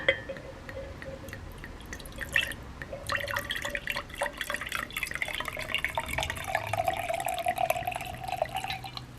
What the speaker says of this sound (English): And then just pour water.